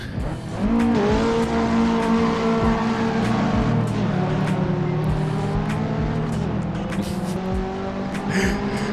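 A 9th-generation Honda Civic Si coupe driven hard up a road in Assetto Corsa, its engine droning loud and close with a steady rising whine as revs climb through the gears, under a light hiss of road and tire noise.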